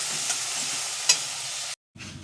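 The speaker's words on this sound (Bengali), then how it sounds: "হলুদের সাথে তেল দিয়ে ভালো করে ভেজে নেব" Turmeric frying in oil for a soybean curry, a loud, dense close sizzle with a couple of stirring clinks, cutting off briefly before resuming.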